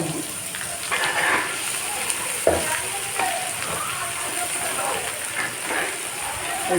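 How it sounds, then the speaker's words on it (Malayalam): Ginger-garlic paste sizzles in hot oil in a pan for a small-shrimp pickle, a steady crackling fry broken by stirring scrapes, with a person talking over it. "ഇഞ്ചി വെളുത്തുള്ളി പേസ്റ്റ് അത് ഇതിലേക്ക് ചേർത്ത് കൊടുക്കാം"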